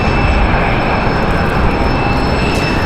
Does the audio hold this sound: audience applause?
no